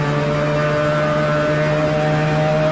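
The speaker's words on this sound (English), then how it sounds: "let's go all out. Wide open throttle." A car engine held at wide open throttle, a loud sustained steady drone with strong harmonic tones, close and alone with no talk.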